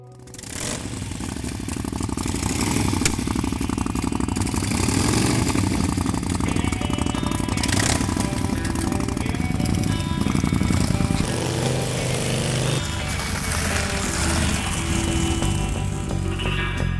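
A custom vintage-style Indian Scout motorcycle engine runs steadily and fairly close, a continuous mechanical drone with some clatter that shifts in tone partway through, heard without talk over it.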